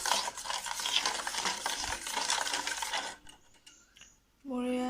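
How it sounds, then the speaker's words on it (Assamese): Sugar being stirred into a bowl of cake batter with beaten egg, a dense continuous scraping swish close up for about three seconds before it stops, followed by a brief tonal sound at the end. "তাৰপিছত এইখিনি লৰাই দিম।"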